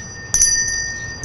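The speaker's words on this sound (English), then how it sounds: "That bell means Christmas is near" A single bright strike of a Salvation Army kettle bell rings out briefly over a low background hum, followed by a fainter second ring near the end.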